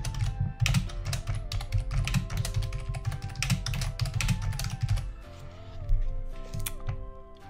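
Rapid typing on a computer keyboard, close and crisp, with dense clusters of key clicks and a brief slower patch before the tapping resumes; no one speaks.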